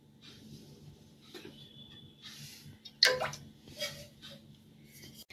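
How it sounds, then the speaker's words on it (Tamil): Cooking oil is poured into a kadai for frying pakoda, with quiet trickling and pouring sounds, a faint tone, and one sharp clatter midway, all close and fairly soft. "நான் ஒரு கடாய் வச்சுக்கிறேன். நான் எண்ணெய் ஊற்றிக்கிறேன்."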